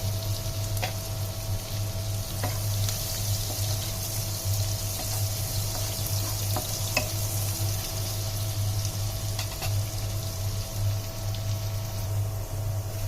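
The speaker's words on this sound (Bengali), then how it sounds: "পেঁয়াজগুলোকে সুন্দর করে ভেজে নেব।" Onions frying in a pan for a hilsa and pointed gourd curry, a steady close sizzle with faint scattered crackles and a low hum underneath, no talking.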